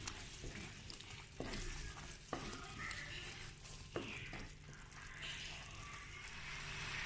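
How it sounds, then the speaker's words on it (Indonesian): Spices sautéing in a pan for sate padang, a steady close sizzle and frying hiss with a few sharp stirring scrapes, no talk. "Kita tumis ini terlebih dahulu sampai wangi"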